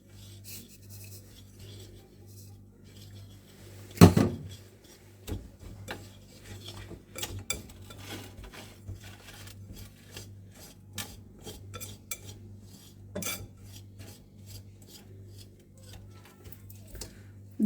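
Baking powder and sugar mixed in a bowl for waffle batter: quiet, irregular ticking and scraping utensil strokes, with one louder knock near the start and faint rubbing throughout.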